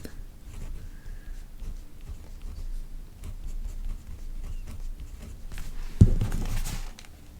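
A fountain pen nib scratches softly across paper in short strokes and pauses, close and quiet, with one brief louder knock near the end.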